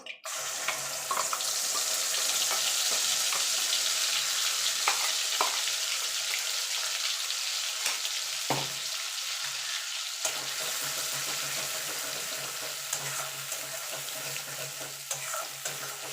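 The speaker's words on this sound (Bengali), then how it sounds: "এই তেলে বাকি রান্নাটা করে নেবো তার জন্য যে মশলাটা করে রেখেছিলাম সেটা দিয়ে দেবো" Spice paste sizzles and fries steadily in hot oil in a pan while cooking egg curry, with a continuous hiss and occasional clinks of stirring.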